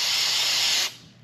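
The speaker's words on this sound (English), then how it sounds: "Spray them down real good." Cleaner sprays onto the ports of a Hyundai cylinder head in one sustained, close, bright hiss that lasts under a second and cuts off abruptly, leaving quiet room tone.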